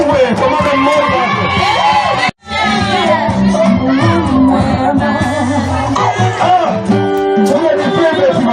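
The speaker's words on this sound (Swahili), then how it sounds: "Sikia shangwe kwa mama mmoja." Wedding guests celebrating loudly, a dense crowd of cheers, whoops and shouts over blaring music. The noise runs almost continuously, broken only by one brief drop to silence early on.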